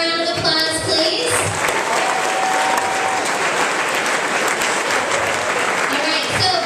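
Sustained applause from a school ceremony audience fills the room, a dense steady clatter of many clapping hands at close range with scattered whoops and voices mixed in throughout.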